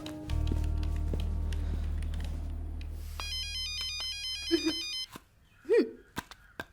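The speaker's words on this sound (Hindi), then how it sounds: "बार बार किसका कॉल आ रहा है?" Phone ringing with an incoming call in a Hindi-dubbed South Indian drama film, a steady electronic ringtone melody repeating over a low hum before the ring cuts off, followed by faint movement sounds.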